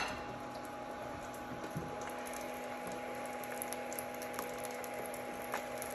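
Crab rangoon deep-fry in hot oil, giving a faint, steady bubbling sizzle with small irregular pops and a thin constant hum in the background.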